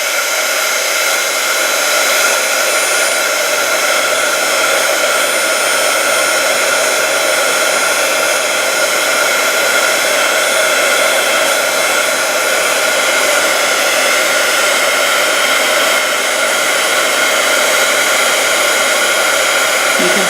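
A heat tool warms up for card embossing, giving a loud, steady blowing whir that holds unchanged and alone from start to finish.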